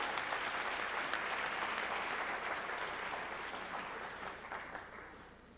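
Audience at an education awards celebration claps steadily, with dense applause that slowly fades over several seconds.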